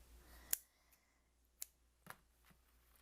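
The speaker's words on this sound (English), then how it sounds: "then what I do is I cut this yarn with about double the amount of the length" Scissors snipping crochet yarn for a Tunisian crochet soap cozy, a few quiet, sharp isolated snips spaced apart in a near-silent room.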